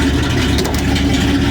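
A 1998 Dodge 1500 pickup engine runs after its ignition parts were replaced, giving a steady, close, unbroken idle rumble with no other sounds.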